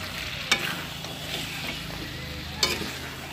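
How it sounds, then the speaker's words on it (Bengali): Country chicken curry sautéing in a covered pot, stirred with the lid off, giving a steady close sizzle broken by two sharp spoon clanks against the metal. "এইভাবে 2 মিনিট পরে পরে ঢাকনা খুলে নেড়ে চেড়ে 7-8 মিনিটের মতন কষিয়ে নেব।"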